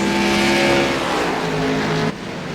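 BMW and Cadillac GT race cars in a sim racing game at Road America, engines roaring loudly at high revs, then the sound cuts off abruptly near the end.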